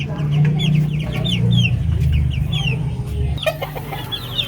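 Three-month-old Darag native chickens cluck and chirp busily at feeding time, a close chorus of overlapping calls over a low murmur, with one sharp knock near the end.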